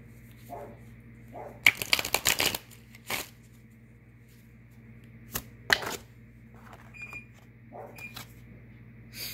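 Tarot cards riffled and shuffled in a few short, crisp bursts, with quiet gaps and light handling taps in between.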